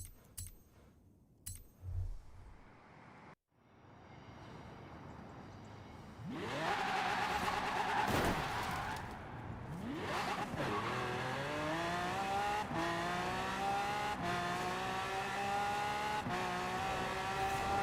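A fast drag car in GTA Online launches with tire squeal, then screams up through rising revs, gear changes cutting in as the engine climbs again and again, loud and close after a brief quiet start.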